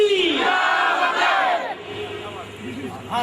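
A crowd at a religious Urdu-language gathering, a bayan, roars a takbir response in unison, a loud massed shout that swells and then fades over a few seconds, with a voice briefly audible at the end.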